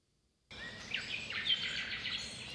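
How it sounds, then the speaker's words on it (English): Bird ambience clip playing in the Unity game engine: several birds tweeting and chirping with quick rising calls over a soft airy background, starting abruptly after a short silence and continuing steadily. "I'm hearing this beautiful ambience of birds tweeting around me"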